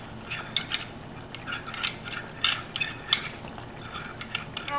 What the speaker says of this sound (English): you're just going to mix up the cornstarch and make sure it's not lumpy or anything